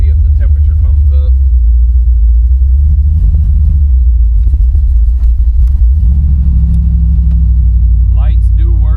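Big-block V8 in a 1971 Chevelle running close by, a loud, deep, continuous rumble with slight swells in pitch, with a person talking over it.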